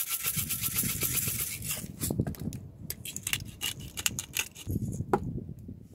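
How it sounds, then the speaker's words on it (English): A whisk scrapes and rattles briskly through a wet turmeric, salt and pepper marinade in a bowl, a busy stream of close, uneven clinks and rubbing strokes with brief pauses. "we're just going to give that a good whisk together"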